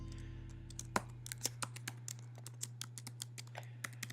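A password is typed on a computer keyboard: a quick series of distinct, close key clicks in an irregular rhythm over a low steady hum in a quiet room.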